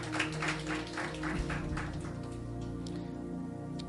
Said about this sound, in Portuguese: Dê uma salva de palmas bem bonita para o Senhor